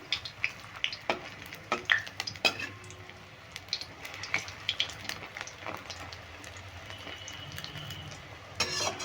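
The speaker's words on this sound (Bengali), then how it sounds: "এটা খুব লালচে করে ভেজে নেব" Steady sizzle of fish roe frying in a pan, with clinks and scrapes of a utensil stirring and turning it.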